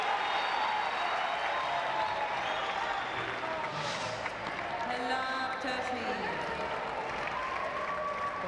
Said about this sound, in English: That's brought the crowd alive.